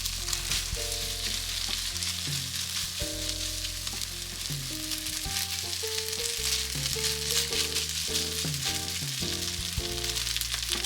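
Cooked rice tossed with ketchup sauce in a hot pan for Japanese-style omelet rice sizzles steadily under the clatter of spatula strokes, while tonal music plays throughout and no one speaks.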